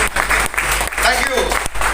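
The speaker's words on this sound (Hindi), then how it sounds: "जोरदार ताली हो जाओ मेरे लिए।" Audience at a business meeting applauds steadily on cue, a dense wash of many hands clapping together throughout, with some voices mixed in.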